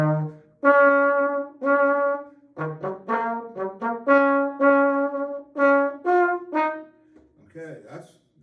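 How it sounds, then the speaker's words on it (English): A solo trombone plays the high school fight song, a sequence of sustained, strongly harmonic tenor notes with short breaks between phrases, close and clear with no talking. "and I have a trombone."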